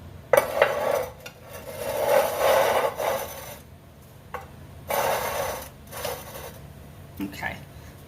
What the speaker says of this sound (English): We're going to take our cream cheese, softened cream cheese. We're going to mix them together.